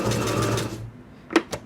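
Sewing machine stitching a double-sided fabric tote bag, with a brief steady run of stitching that fades out, followed by two sharp mechanical clicks as the needle reverses.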